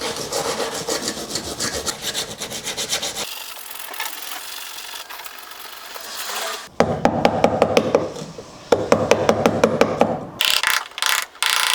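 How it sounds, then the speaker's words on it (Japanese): Scraping and grinding paint off the old metal body of a classic walk-through van, loud and close, with a steady rasping stretch followed by rapid repeated scraping strokes and abrupt stops, no talking. "この溶接するところの塗料だったりとかがね、あるとハンダ付けができないので、それをね、剥がしていきたいなと思います。"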